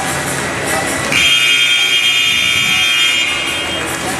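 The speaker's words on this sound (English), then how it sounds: "The buzzers are loud." A loud, sustained electronic buzzer blares over crowd noise in a high school basketball gym, starting partway through and holding steady to the end.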